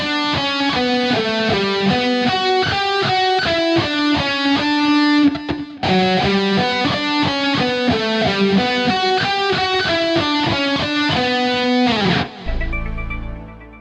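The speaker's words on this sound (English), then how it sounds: "I'm just going to play the last measure of the second lick going into the first measure of the first lick." Electric guitar lick played with downstroke picking through a distorted tone: a steady, rapid stream of loud picked notes, briefly broken once, ending on a sustained note with a low thud at the end.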